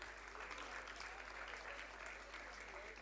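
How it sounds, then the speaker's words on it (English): A convocation audience applauds a graduating student receiving a rank, a steady, continuous wash of clapping heard from a distance over a low electrical hum. "Please clap for Hemang."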